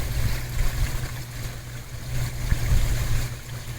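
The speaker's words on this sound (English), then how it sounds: "Listen to the sound of that water" A garden waterfall with water flowing and splashing in a steady low rush, close and moderately loud, rising and falling slightly with no voices.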